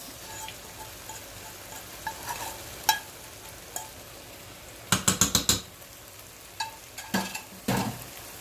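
Corned beef hash with potatoes frying in a pan, a soft steady sizzle under repeated scraping and clinking stirs, including a quick rattling cluster of strokes midway.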